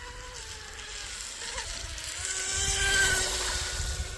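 Thin, high-pitched electric motor whine of a small RC shrimp outrigger boat running at about half throttle on 3s power, distant and faint, slowly swelling as it passes closer.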